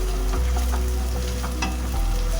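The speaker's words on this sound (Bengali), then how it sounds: "দিয়ে সব আমি ভালো করে ভাজছি।" Onion, ginger garlic paste and green chili fry in a pan with a steady, close, loud sizzle. Brief stirring scrapes break through the continuous hiss.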